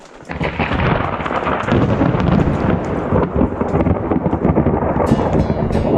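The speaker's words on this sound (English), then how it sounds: "ended up in the middle of a lightning storm on top of the mountain" Heavy thunder rumbles loudly over pouring rain during a lightning storm on a mountaintop, a continuous deep roll with crackling bursts, close and intense throughout.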